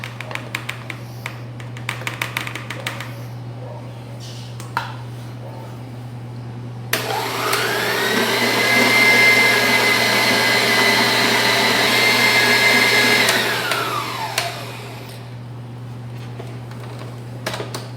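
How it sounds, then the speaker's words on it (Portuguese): An electric mixer beats egg yolks, sugar and vanilla. After some faint clicks and taps, the motor whirs up sharply, holds a loud steady drone for about seven seconds, then winds down and stops. A low constant hum runs underneath throughout. "Iremos bater com uma colher de chá de essência de baunilha."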